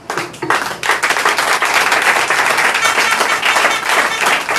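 A church congregation bursts into sustained, dense applause and clapping that fills the room nearly unbroken for several seconds, acclaiming Jesus during a worship service.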